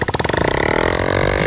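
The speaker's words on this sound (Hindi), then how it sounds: "फाइनली हम हमारी गाड़ी के इंजन को स्टार्ट करने वाले हैं" A homemade road roller bike engine starts up, sputtering in quick rhythmic pulses that speed up into a steady, loud running chug.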